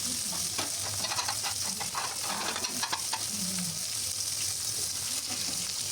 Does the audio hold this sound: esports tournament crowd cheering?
no